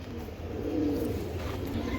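Racing pigeons at a club loft coo in a low, continuous murmur, a steady close chorus with no clear breaks across the stretch.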